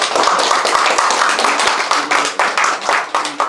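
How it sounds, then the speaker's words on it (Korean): A small rural crowd in a village hall claps for a local council member during a mayor's visit, scattered uneven handclaps from a modest group, close and distinct, with some faint voices mixed in. "박수 한번 쳐주세요"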